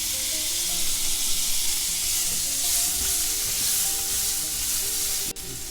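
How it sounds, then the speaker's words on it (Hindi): Finely chopped tomatoes hitting hot, lightly fried spices in a pan, an intense, continuous sizzle with a bright hiss that holds steady at close range, then dips briefly near the end. "जैसे ही मसाले हल्के से फ्राई हो जाए वैसे ही मैं 2 बारीक चॉप किए हुए टमाटर"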